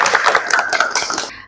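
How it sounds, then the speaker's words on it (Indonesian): A small group of students claps in a vocational high school classroom during a group guidance session, a brief burst of quick, close, uneven hand claps lasting under two seconds. "tepuk tangan untuk semua"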